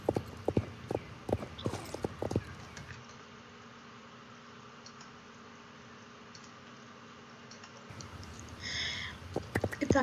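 Pony hooves clip-clopping in the online horse-riding game Star Stable Online, a quick run of sharp near steps that stops, leaving a quiet ambient lull with a soft whinny-like tone before the hoofbeats resume.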